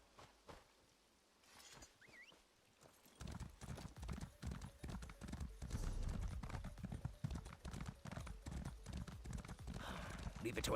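Hooves clip-clop in a fast, continuous gallop from a mounted horse in Elder Scrolls Online. The sound starts after a quiet opening and stays loud and steady. A faint whinny comes early and speech is heard alongside.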